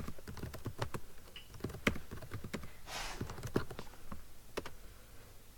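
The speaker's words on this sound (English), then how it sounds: "So first, let's type in our date of" Steady typing on a computer keyboard, a brisk irregular patter of crisp, close key taps with a few louder strikes and brief pauses between bursts, no voice.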